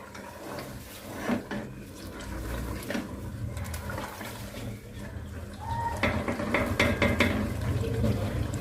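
Mutton being stir-fried in a pot for aloo gosht: scraping and clattering of a utensil against metal, with a low sizzle, steady and up close.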